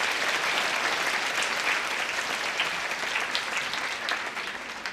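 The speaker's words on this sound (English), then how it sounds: "please give a big round of applause to our students from all corners of Asia" Audience in a university hall giving a big round of applause to students, dense even clapping that holds steady and fades slightly at the end, with no voices over it.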